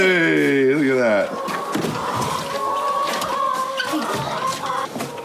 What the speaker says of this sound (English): Bye-bye, little chickens.